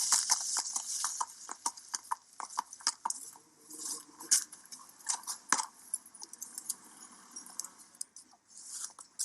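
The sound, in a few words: horse hooves trotting during harness racing training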